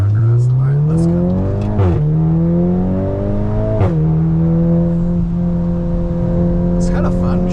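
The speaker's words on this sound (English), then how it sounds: "when it shifts, it lets it hit the limiter for just a second" A modified 2022 Volkswagen Golf R revs hard, its engine note rising steadily then dipping sharply twice as it bounces off the rev limiter on each shift, loud and close from inside the car.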